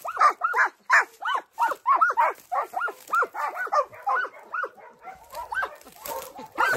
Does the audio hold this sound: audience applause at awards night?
no